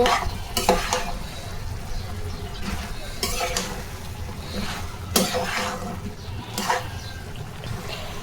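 Pumpkin and eggplant stir-fried in a pan for a winter vegetable bhaji, with a steady scraping stir and continuous sizzle, punctuated by several louder spatula clatters against the pan.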